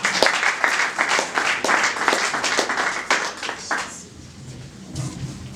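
A church congregation at a gospel service applauds together, dense close clapping that thins and fades out over a few seconds.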